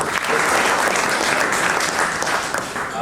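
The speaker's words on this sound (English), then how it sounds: "Give another round of applause for all the projects that submitted." A hackathon crowd applauds submitted projects at the Cerebral Valley GPT Plugin event, Shack15, 2023: dense, continuous clapping throughout, close and full, easing slightly toward the end.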